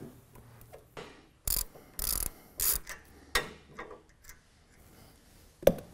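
A hand ratchet loosens bolts on a TigerStop motor, heard up close as several loud, separate clicking bursts of ratcheting with short pauses between, followed by a final sharp metallic click.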